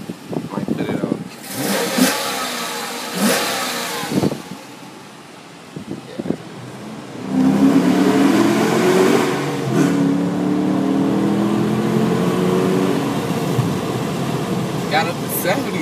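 A 2015 Dodge Challenger R/T with HEMI V8 and Shaker hood revs and accelerates, its engine rising to a loud, sustained roar through the second half after quieter moments of driving noise.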